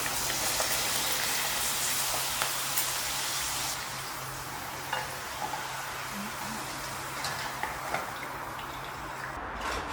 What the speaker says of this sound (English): I continue using the same hot oil to fry poppadoms as well